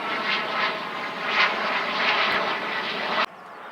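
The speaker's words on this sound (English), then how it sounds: "Piss off plane." An airplane passes overhead above an allotment garden, a loud continuous engine roar that swells and fades slightly, then cuts off sharply into a quieter background for the last half second.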